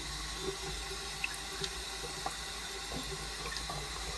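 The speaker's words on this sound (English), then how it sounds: "Washing the finger off, drying it." A tap runs at a sink while lather is rinsed off a finger during a straight razor shave, a faint, steady trickle broken by a few small splashes and clicks.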